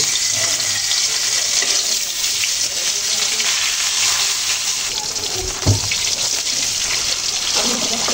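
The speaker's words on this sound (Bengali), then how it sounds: "তো মাছগুলো এইভাবে লম্বা করে ভেজে নেব।" Taki fish, laid out lengthwise, frying in hot oil in a pan for a mustard fish-fry dish, giving a steady sizzling hiss with watery crackle throughout and a brief clatter near the end.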